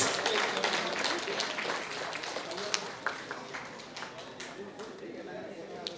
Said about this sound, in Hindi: तालियां नहीं रुकना चाहिए, बजाते रहो तालियां प्लीज।